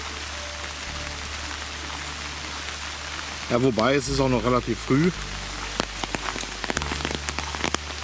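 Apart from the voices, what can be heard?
rain falling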